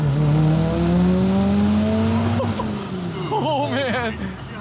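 A modified Mitsubishi Eclipse GSX with about 240,000 miles and doubled horsepower, pulling hard with a loud climbing engine note that drops at a gearshift, then squealing, warbling tires as acceleration continues.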